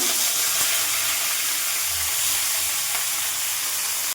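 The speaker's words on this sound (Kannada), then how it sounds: "ಗ್ಯಾಸ್ನ ಫುಲ್ ಹೈ ಫ್ಲೇಮಲ್ಲೇ ಇಟ್ಟು ಇದನ್ನು ಚೆನ್ನಾಗಿ ಬಾಡಿಸ್ಕೋಬೇಕು" Onions fry in a pan over a full high gas flame for an egg masala, a close, continuous loud sizzle and hiss with faint stirring scrapes.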